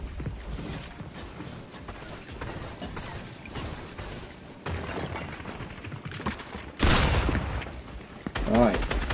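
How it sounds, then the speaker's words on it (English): Assault rifle gunfire in the Fortnite video game, sounding as rapid bursts of shots over busy game noise, with a louder volley near the end. "I feel like this is going to be my go-to assault rifle now"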